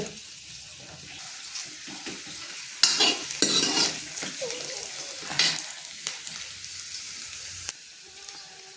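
Onions fry and are stirred in a pan, a close sizzling hiss with scraping bursts of the spatula swelling and fading across the stretch.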